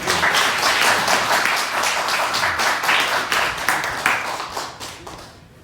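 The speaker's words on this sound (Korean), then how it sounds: "환영의 박수를 드리겠습니다" An audience gives a welcoming round of applause at a church history lecture: dense, steady clapping from many hands, close and loud, tapering off over the last second.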